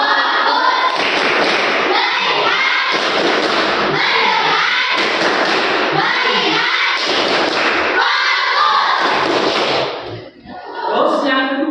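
A group claps together in rhythmic unison bursts during an ice-breaker clapping game at a teacher-training session, with voices chanting and talking between the claps.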